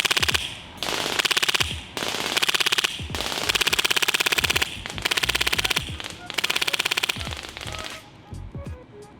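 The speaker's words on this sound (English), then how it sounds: "I'm going to shoot a few left of the plate and then on the plate." MTW Forged Series airsoft rifle firing repeated full-auto bursts, each a rapid loud rattle of shots with short pauses between, close to the listener and fired at a metal plate.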